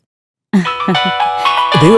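A mobile phone rings with an incoming call in a Malayalam-dubbed comedy film scene, a bright repeating melodic ringtone starting abruptly after a moment of silence and continuing steadily at close range.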